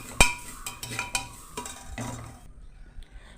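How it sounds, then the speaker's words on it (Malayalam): Grated coconut is stirred and roasted inside a rice pressure cooker, with a sharp metal clink followed by several lighter scrapes and taps of the spoon against the pot, then a quiet pause. "തേങ്ങ നമുക്കൊന്ന് വറുത്തെടുക്കാം"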